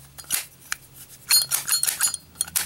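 A brass Zippo lighter with a steel insert being handled: several bright metallic clicks and snaps of the lid opening and closing, close and crisp, with small clinks in between.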